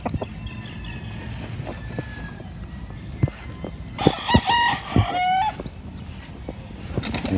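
Gamefowl rooster, offspring of a champion bird called Dilaw, gives a loud near crow in the middle with clucks and scattered knocks around it against a quiet outdoor background.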